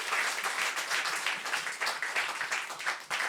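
An audience applauds after an acoustic performance, dense continuous clapping that stays loud and even throughout with no break.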